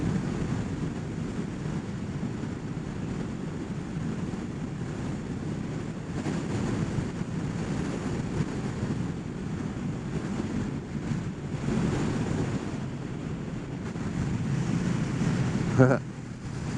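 Heavy wind buffeting roars steadily across a microphone while riding a Kawasaki Ninja 1000SX sport-touring motorcycle at speed, a dense continuous rush with gusty swells throughout.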